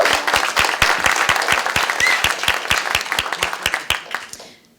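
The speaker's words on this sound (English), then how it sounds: "If we could please give him a round of applause." A panel audience claps for a veteran panelist, with a strong, steady rhythm of near claps that holds for about four seconds and then stops abruptly.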